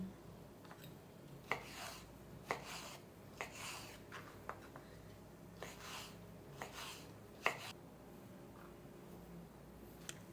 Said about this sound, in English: And then I'm gonna cut up my nectarine next.